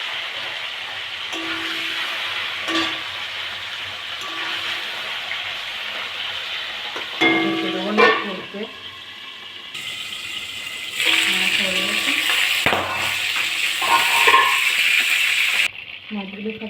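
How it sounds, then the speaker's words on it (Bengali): Gagra fish frying in hot oil in a home kitchen, a steady broadband sizzle running throughout with occasional scrapes and clatter as the pieces are stirred and turned. "তেল গরম হয়ে গেছে, আমি মাছগুলো ভেজে নেব।"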